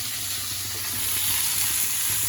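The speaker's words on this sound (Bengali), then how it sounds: "আলু অর্ধেক ভেজে নিচ্ছি" Potatoes are half-fried in oil in a pan in a village kitchen, producing a continuous, close, even sizzle with no pauses and no voices.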